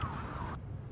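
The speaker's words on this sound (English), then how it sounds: "Wow, loads of sirens, man." A wailing siren sweeps steadily, fairly close and loud over a low rumble of traffic, then cuts off abruptly, leaving only the low background hum.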